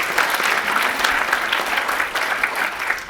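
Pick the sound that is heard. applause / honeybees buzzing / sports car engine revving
applause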